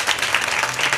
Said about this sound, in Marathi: एकदा आमच्या बळीरामजी महाराज गावारे गुरुजींसाठी जोरदार टाळी वाजवा.